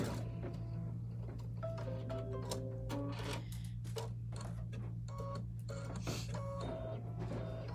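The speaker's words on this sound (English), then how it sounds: "the first stitch is going to do a placement stitch for our piece of batting" An embroidery machine sews a placement stitch onto a piece of batting while making coasters, its rapid mechanical ticking and whirring steady throughout over a constant low hum.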